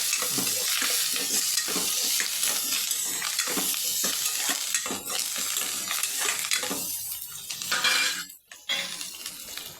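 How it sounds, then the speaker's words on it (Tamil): Onion, green chili and curry leaves sautéing with mustard seeds in hot oil, a steady loud sizzle with scraping stirs and occasional clinks of a utensil against the pan, briefly dipping near the end. "வெங்காயம் போட்டாச்சு ம் பச்சை மிளகா போட்டு ம் அதுக்கு கருவேப்பிலை கொஞ்சம் போடுங்க நல்லா வதக்கு"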